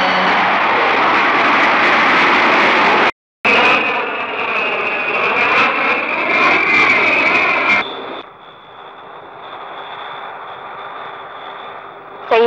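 An airliner in flight shortly before landing at Cairo International Airport, with a loud, steady engine roar that briefly drops out, then shifts in pitch and settles into a quieter, even whine.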